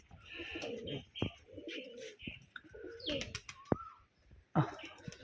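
Rajshahi Giribaz pigeons at a loft coo and flutter nearby during feeding, with soft throaty calls, scattered chirps and a few sharp clicks against a quiet background.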